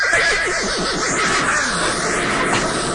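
A horse neighs in a radio drama of The Chrysalids, a loud, close, wavering whinny that slowly trails off over a steady background wash.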